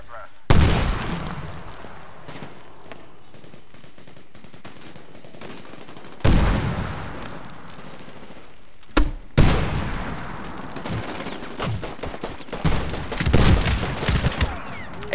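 Heavy booming rocket explosions and rapid gunfire bursts recur through a chaotic, loud battle in Medal of Honor Warfighter multiplayer, with voices talking beneath the blasts.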